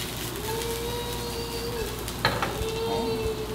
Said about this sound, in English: I'm stirring that up, getting that peanut oil kind of around everything